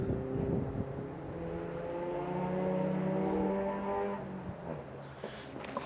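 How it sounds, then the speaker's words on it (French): Cars on a mountain road heard from a hiking trail near a shepherd's hut, a steady engine drone that swells as a vehicle passes close, then fades away, with no talking. "Je sais pas si on entend les voitures"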